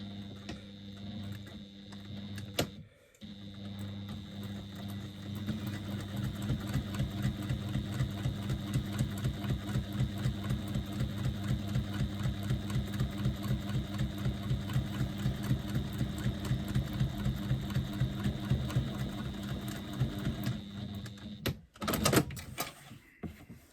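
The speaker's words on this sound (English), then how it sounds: "And I'm going to do a second line of top stitching." A sewing machine runs a line of top stitching, a steady rapid mechanical chatter with a low motor hum lasting most of the stretch, ending in a few clunks and handling knocks.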